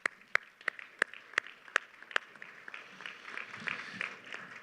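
A dinner audience applauds the caterers at a photonics keynote event, starting with a few loud, separate claps that grow into steady, moderate clapping from the room.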